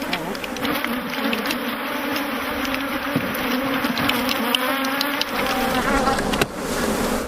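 A loud, dense buzz of many honey bees swarming close by, a constant droning hum that barely wavers throughout.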